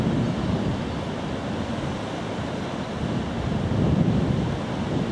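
Strong wind buffets the microphone on a countryside walk between Hassocks and Brighton near windmills, a loud, continuous rushing roar that swells slightly toward the end, with no talking.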